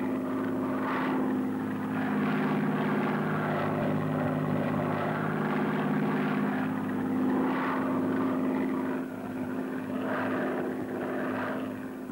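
A basic trainer aircraft banks through a steep turn in flight, its propeller engine droning steadily with a strong humming tone that swells and fades slightly, heard from inside or close by with no talking.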